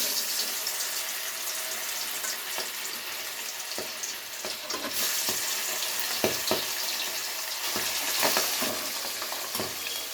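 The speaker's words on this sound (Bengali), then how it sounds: "এবারে গ্যাসের ফ্লেমটাকে সিম করে তারপরে কিন্তু মাছগুলো দিয়ে দেবো।" Pieces of aar fish frying in hot oil in a pan on a low gas flame, giving a steady, dense sizzle throughout with occasional sharper spits and crackles, close up and without speech.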